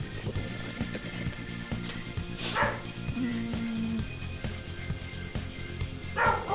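A dog yipping and barking in the background during a Persona 5 Royal game session, a few short high yelps and a whimpering whine at moderate distance over steady game music and sounds.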